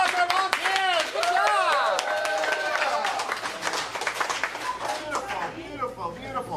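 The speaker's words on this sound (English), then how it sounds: "Give a round of applause for our volunteers." An audience at a family-friendly live show claps for volunteers, a burst of moderately loud applause that carries on for several seconds while excited voices and children's shouts rise over it.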